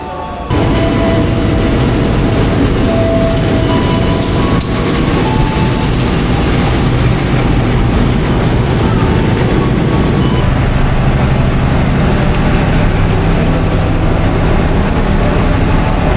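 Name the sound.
train running, heard from inside the last carriage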